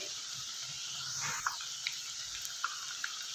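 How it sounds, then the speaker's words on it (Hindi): Potato french fries frying in hot oil over a medium flame, a steady soft sizzle and hiss with faint bubbling pops, continuous and fairly quiet throughout. "फ्राई होने तक इसको 2-3 मिनट पकाएंगे।"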